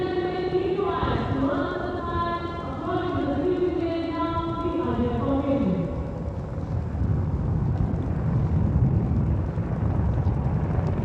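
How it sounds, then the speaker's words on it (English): Apache helicopters flying over Kartavya Path in victory formation at a Republic Day flypast, a sustained loud rotor and engine roar in the open air, with a speaking voice over the first half. "Apache helicopter victory formation में कर्तव्य पथ के ऊपर पहुंचते हुए"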